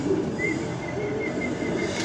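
Racing pigeon cooing softly on arrival at the loft, a few short repeated calls over steady background hum and outdoor noise.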